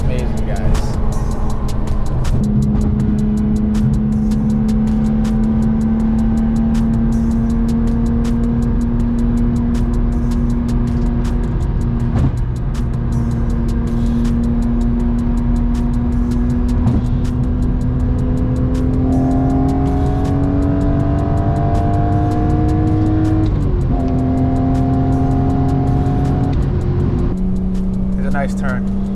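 BMW E46 M3 sports car driving hard through corners, its engine droning steadily and rising in pitch through the bends, close and loud, with someone talking excitedly over it.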